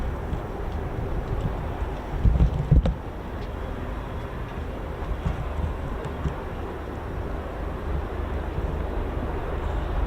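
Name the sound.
Lynx helicopter flying past at air show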